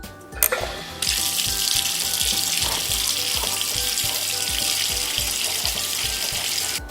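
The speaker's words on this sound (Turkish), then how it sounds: "Önce üzümleri güzelce yıkamalıyım." Tap water gushes steadily into a sink while grapes are rinsed under it, a close, loud and continuous rush that starts abruptly after a brief clatter and runs unbroken, with no talking.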